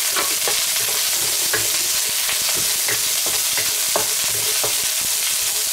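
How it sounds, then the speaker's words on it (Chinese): Scallion, ginger, garlic and dried chilies stir-fried in hot oil in a wok, giving a loud, continuous close sizzle broken by regular scraping strokes of the spatula. "加入食用油，加入葱姜蒜干辣椒， 给它炒香。"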